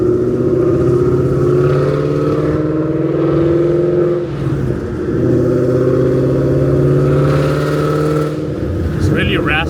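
A Ford Mustang S550 with long tube headers, no catalytic converters and a Corsa Extreme exhaust revs and idles with a deep, raspy exhaust note, holding steady with a brief dip midway, loud and close throughout.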